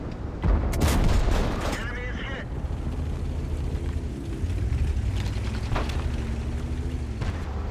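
Tank cannon shots in the World of Tanks video game, heard as a loud booming blast early on, with engine rumble and battle noise continuing under a commentator's steady talk.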